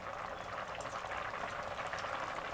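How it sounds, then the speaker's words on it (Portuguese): Rice cooking with garlic in a pot of salted water bubbles and seethes, giving a steady, close, continuous simmering hiss with no one talking. "mostrando aqui o nosso arroz, observe que ele está cozinhando"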